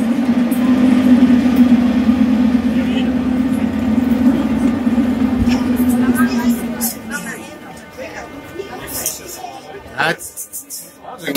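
A metro train moves through a station in Odesa with a loud, steady low rumble that fades after several seconds, followed by clattering and thumps. People talk over the noise.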